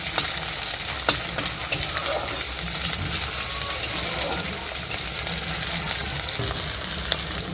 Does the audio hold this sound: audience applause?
no